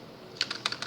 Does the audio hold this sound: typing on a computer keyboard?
yes